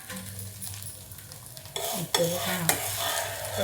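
Breakfast food roasting in a hot pan: a steady low sizzle, then louder scraping as the spatula works under it and flips it, with a couple of sharp clanks and livelier frying noise afterwards.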